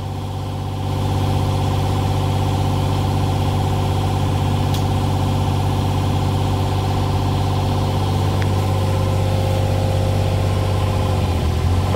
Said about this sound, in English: the motor sounds really good. It is a mini excavator